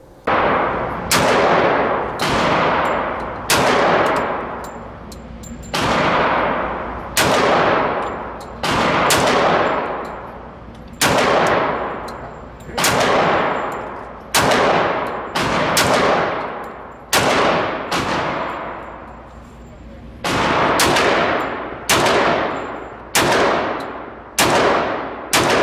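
A Cosaint Arms 10mm double-stack 1911 pistol fires a long string of loud, sharp gunshots outdoors, each crack followed by a decaying echo, in uneven rhythm with several quick pairs and short pauses.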